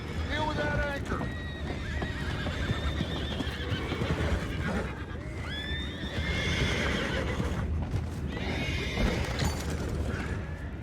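Several horses whinny and neigh loudly amid clip-clopping hooves in Red Dead Redemption 2 game audio, with repeated calls layered over continuous commotion and voices talking.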